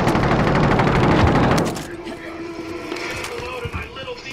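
An Uzi submachine gun in a video game fires a loud, rapid burst for about a second and a half, then cuts off, leaving quieter game ambience with faint background talk.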